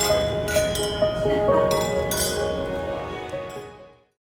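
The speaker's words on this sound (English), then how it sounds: "The sound of clinking glasses is the hidden trigger for this installation" Several glasses clink together in bright, ringing taps, a few overlapping hits that chime and slowly fade away.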